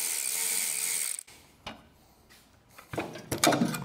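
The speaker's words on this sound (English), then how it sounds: "We're gonna go ahead and remove this flange." Top flange being removed from a Spartan B1100 vacuum pump, a loud hissing rush that cuts off, followed by scattered close metallic clicks, knocks and scraping.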